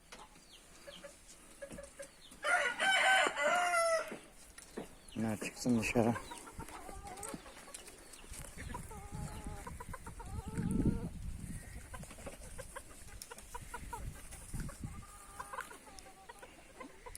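Dwarf Cochin chickens cluck and a Cochin rooster calls nearby, with bursts of loud squawking early on, while a person speaks briefly over the birds.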